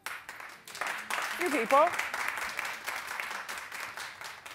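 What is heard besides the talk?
studio audience clapping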